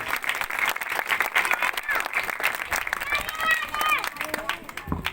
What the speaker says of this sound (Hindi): सो इस बच्ची के लिए भी जोरदार तालियां बजाएंगे